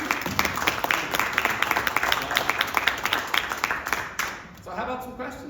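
Audience applause for teachers at a school panel event, steady clapping from a crowd for about four seconds that then fades as a voice begins speaking.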